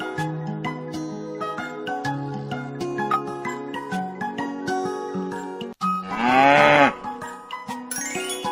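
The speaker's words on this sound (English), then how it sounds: "Cow." A cow gives a long, loud, close moo with rising and falling pitch, preceded by several seconds of tonal musical notes and accompanied by jingling.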